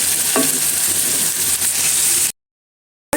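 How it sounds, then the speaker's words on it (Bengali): Prawns sizzle and crackle steadily as they are lightly fried in oil in a pan, a dense close hiss for a little over two seconds before the sound cuts out abruptly and then briefly returns. "আমরা যেহেতু ভাজা ছাড়া ভালো লাগে না, হালকা করে ভেজে নিই।"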